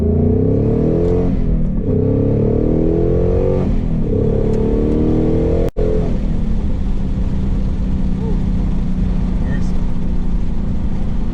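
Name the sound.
Ford Mustang Mach 1 accelerating hard, MBRP X-pipe exhaust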